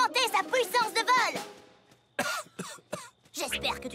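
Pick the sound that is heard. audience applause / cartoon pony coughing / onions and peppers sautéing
cartoon pony coughing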